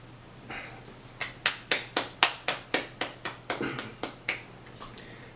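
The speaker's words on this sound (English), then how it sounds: "So Bronwyn gets claps from me." Roughly a dozen sharp hand claps in a steady rhythm, close and crisp, starting faint and building to a clear, even run over a low constant hum, with no voices.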